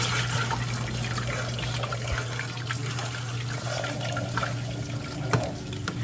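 Water runs steadily from a kitchen tap while a pan is washed in the sink, a constant hiss and splash with a low hum underneath, heard alone without talk.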